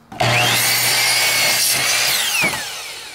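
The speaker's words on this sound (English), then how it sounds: "It's basically a way to drill holes in wood and to make your joints very, very awesome" A power drill bores into wood at close range in a bike workshop, starting abruptly with a loud, whining grind that holds steady and then tapers as the bit winds down.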